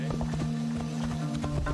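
Horse hooves clip-clopping in the video game Assassin's Creed Odyssey, a steady run of close, evenly paced hoofbeats over a constant low tonal hum, with no talk over them.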